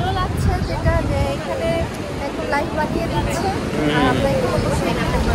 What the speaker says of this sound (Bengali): দুপুরবেলা যখন আসলাম তখনও দেখি এরকম ধামধাম, এখন এসে দেখি যে সেম একই অবস্থা, যে জোরে জোরে ঢেউ